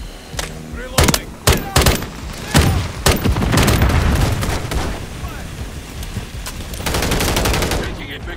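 Gunfire in the video game Black Ops 6: a few sharp, loud shots in the first three seconds, followed by a dense stretch of rapid firing and rumbling blasts. Shouted voices sound over the battle.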